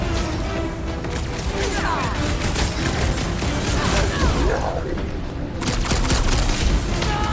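Rocket's gun fires in a Guardians of the Galaxy style video game, a dense, loud barrage of rapid shots and booms running continuously alongside game effects.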